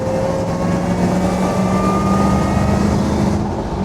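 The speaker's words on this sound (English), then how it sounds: "there's a terrific whine from the supercharger as well" A heavily modified Land Rover Defender drives on, its supercharger producing a sustained high-pitched whine over a loud, steady engine drone from inside the cabin.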